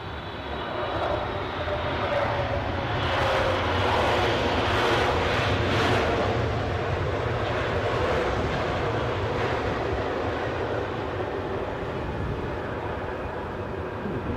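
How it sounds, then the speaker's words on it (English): A plane departs London Heathrow, its jet engines roaring loudly and steadily for the whole stretch as a broad, continuous rumble and whoosh that barely fades, with no talk over it. "Departure there, a bit of a departure"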